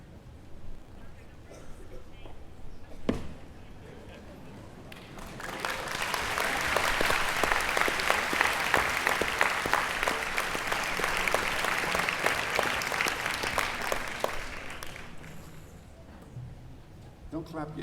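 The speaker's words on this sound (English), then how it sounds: "Don't clap yet, you haven't heard it." An audience at an honorary doctorate ceremony breaks into sustained applause, a dense wash of many hands clapping that swells, holds for several seconds and then fades out.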